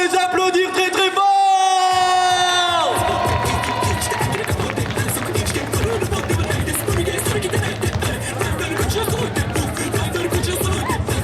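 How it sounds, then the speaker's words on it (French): A crowd at an otaku festival cosplay parade cheers and applauds a costumed group after a music sting cuts out. Dense clapping and shouts follow for several seconds, loud and continuous. "Je veux vous entendre les applaudir très très fort"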